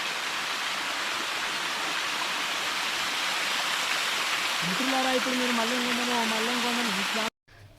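A waterfall in the Nallamala forest at Mallem Gundam rushes in a steady, loud broadband roar; a voice talks over it in the latter half before a sudden cutoff.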